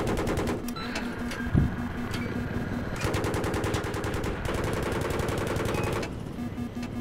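Sustained rapid machine-gun fire in the 32-versus-32 war game Global-Conflict on the Armored Shield map, continuous rattling bursts with brief pauses and one louder thud, fairly close, with no talk over it.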